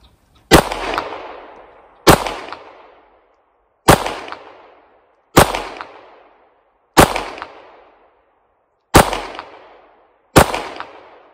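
A Ruger 5.7x28mm pistol fires seven sharp, loud shots at a range, spaced about one and a half seconds apart, each followed by a short decaying echo with silence between.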